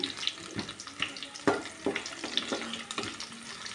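Chopped ridge gourd pieces go into hot oil tempering with dried chillies, onion, seeds and curry leaves, giving a soft crackling sizzle broken by scattered clinks and stirring knocks at close range.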